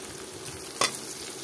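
Catla fish rubbed with turmeric and salt frying in hot oil, giving a steady soft sizzle broken by one sharp spatter midway, with no voices.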